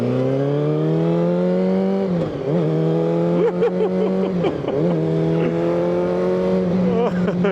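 A 1989 Honda CBR400R four-cylinder 400cc motorcycle engine holds a high, buzzy whine, repeatedly blipping and dropping through several sharp revs, loud and close.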